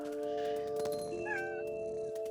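A cat meows softly in the video game What Remains of Edith Finch, a brief rising call over a quiet sustained musical drone and faint ambience.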